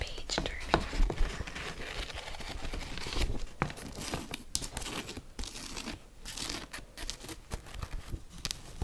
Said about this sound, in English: Let's get some page turning